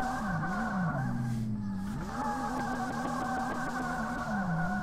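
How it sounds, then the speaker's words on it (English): Virtual car tires squealing and smoking while drifting uphill on the Touge track in the Drift21 racing game, a steady engine drone with wavering squeal tones running continuously throughout, loud and close. "Oh, just smoking tires up the hill."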